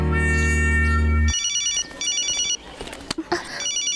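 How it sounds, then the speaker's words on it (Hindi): Mobile phone ringtone chiming in repeated short electronic bursts after a loud tonal music passage cuts off, with brief rustling and movement between rings. "वो मेरा फोन है।"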